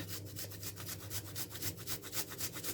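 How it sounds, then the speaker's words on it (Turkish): Two garlic cloves rubbed against a kitchen grater, a close, steady back-and-forth rasping in quick regular strokes, fairly quiet. "Şöyle iki dişte hemen orta boy sarımsağımızı rendeliyoruz"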